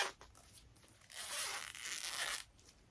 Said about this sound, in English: I just broke the zipper.